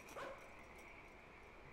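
A dog barks in the horror video game Inunaki Tunnel: one brief, faint bark near the start, then only a steady low background hum.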